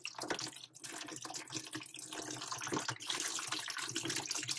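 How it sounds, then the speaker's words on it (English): Water draining out of a loosened sink trap while it is taken apart to unclog it: steady splashing, trickling flow, close and continuous for the whole stretch. "Draining out pretty good out of there."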